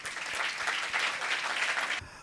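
Sustained audience applause fills a church during a coronation ceremony for Mother Mary at St. Peter's Catholic Church, steady dense clapping from a crowd that cuts off abruptly near the end.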